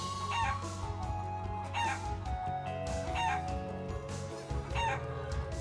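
Chickens cluck and a rooster crows in the role-playing game Trails of Cold Steel 2, with several short crowing calls spaced regularly over a low, steady musical background.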